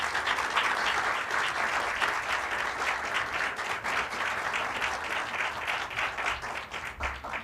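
An audience at a formal lecture gives steady, sustained applause, dense clapping from a large crowd that continues at an even level throughout.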